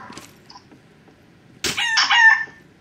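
A rooster crows loudly and close by, one strong drawn-out call near the end after a few faint clucks and scratchy farmyard sounds from chickens.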